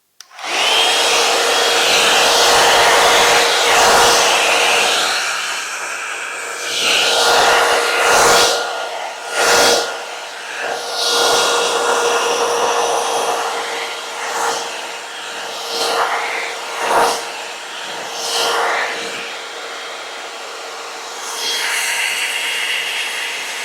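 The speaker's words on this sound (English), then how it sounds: "You're just going to turn the Airstyler on high heat and use the high airflow this time." Envy 3-in-1 Airstyler blowing on high heat and high airflow while smoothing a synthetic wig: a loud steady whoosh with a whining tone, repeatedly dipping and surging as it is switched or moved.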